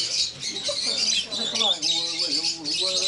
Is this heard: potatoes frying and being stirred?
no